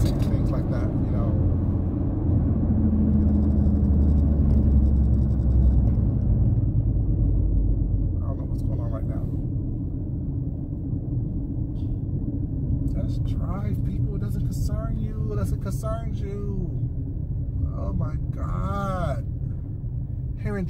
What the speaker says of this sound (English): Georgia traffic is so horrible.